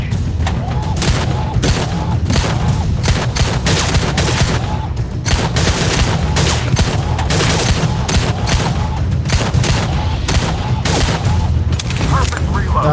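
Pistol gunfire in the VR shooting game Gun Club VR, a dense, continuous barrage of shots over thirteen seconds, loud and close, with speech mixed in underneath the shooting.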